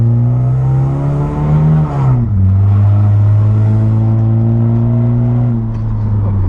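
A loud, rough car engine with its muffler removed drones and revs up with a raspy, unmuffled rumble, steady and close throughout.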